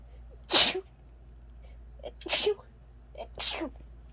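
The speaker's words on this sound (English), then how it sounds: "I'm gonna sneeze" Three sneezes burst out in quick succession, each sharp and loud with a short inhale before it, from someone crafting jewelry with stainless steel chain and wire.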